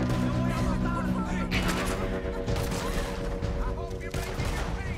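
Rapid gunfire bursts crack and echo in a Red Dead Redemption 2 shootout during a bounty hunt, loud and layered over game music and ambient noise, with players talking over the shots.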